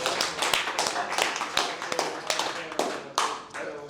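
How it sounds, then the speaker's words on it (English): A small group applauds, dense overlapping hand claps at moderate loudness continuing steadily, with faint voices underneath. "let's give them both a round of applause real quick."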